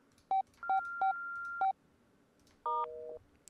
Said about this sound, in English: Let's call the other number